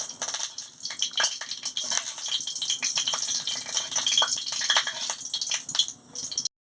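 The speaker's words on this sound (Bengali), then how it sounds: "শুকনো লঙ্কাটা দিয়ে ভালো করে ভেজে নিচ্ছি।" Dried red chillies fry in hot oil in a pan, a steady close crackle and sizzle with quick spitting pops, running continuously until it cuts off abruptly.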